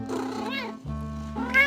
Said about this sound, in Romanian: Un sunet prelungit a unui mix între miaunat și tors poate însemna o cerere insistentă.